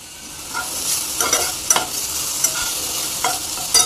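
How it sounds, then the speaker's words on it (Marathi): Garlic pieces, ginger and white sesame seeds fry in a pan, a continuous close sizzle broken by sharp scraping stirs of a spoon against the metal. "ह्यामध्ये आपण आता 5-6 लसणाचे तुकडे टाकून घेऊयात, थोडंसं अद्रक मिक्स करून घेऊयात। 1 स्पून पांढरे तीळ टाकून घेऊयात"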